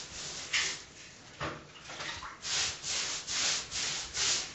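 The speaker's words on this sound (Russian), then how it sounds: "берем кисть или валик и начинаем грунтовать стену сверху вниз" A brush or roller spreads primer across a wall from top to bottom, producing a series of swishing, rubbing strokes that settle into a steady rhythm of about one per half second. Sounds close and moderately loud, with no speech.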